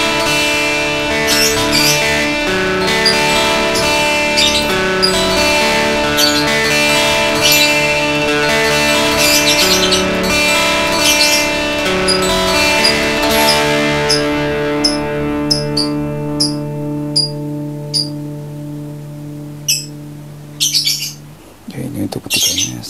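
Electric guitar picked through a Boss DS-1 distortion pedal with its level at twelve o'clock and distortion at three, giving loud sustained distorted notes and chords that ring for most of the passage, with a few sharp pick attacks near the end.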